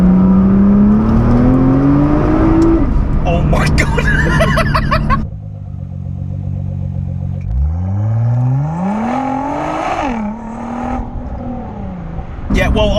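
A 580 BHP Nissan R35 GT-R on a bumpy B road, engine rising hard in rapid near bursts with quick gear changes, heard from inside the car beneath loud talk and exclamations from the occupants.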